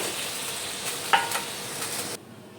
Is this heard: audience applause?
no